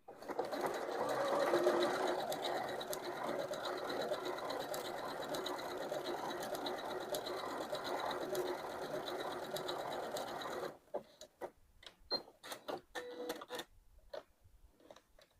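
A Janome domestic sewing machine stitching an appliqué blanket stitch runs in a steady, close whirring rhythm for about ten seconds, then stops, followed by a series of quieter clicks and taps.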